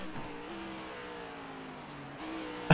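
On-board engine of a stock race car at Daytona, revving steadily and dropping pitch through gear shifts, a continuous loud drone with a brief burst at the end.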